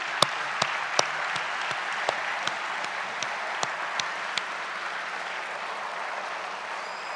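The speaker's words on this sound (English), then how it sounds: "graduates, please join me in a round of applause for all the Swinburne staff." A large audience at a Swinburne University graduation ceremony in 2019 applauds steadily in a dense, continuous round of clapping, with a few sharper claps standing out near the start.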